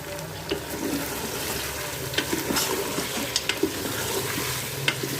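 Finely chopped tomatoes added to softened onions for mutton korma, a low sizzle in the pot with scattered stirring clatters and sharp spoon taps, close up and fairly quiet with no talking.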